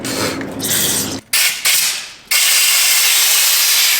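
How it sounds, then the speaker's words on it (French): A Renault Kangoo suspension wheel bearing is cleaned with a loud, close blast of hissing spray. The spray cuts out briefly twice, then resumes as a steady whoosh until the end. "Je viens nettoyer mon roulement."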